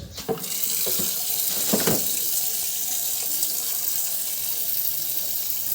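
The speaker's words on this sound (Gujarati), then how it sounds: "કુંડામાં પાણી ઘટી ગયું છે તો થોડુંક પાણી ભરી દેવી" Water runs steadily from a tap into a small tank, a continuous close splashing rush after a few brief clatters at the start, with no voices.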